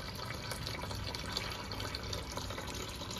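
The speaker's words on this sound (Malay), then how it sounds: "Tekan. Air akan keluar lah. Pastikan air ni habis." Water draining out of a Coway Villaem 2 water dispenser, a steady broadband trickling and splashing that runs continuously at moderate level with no pauses.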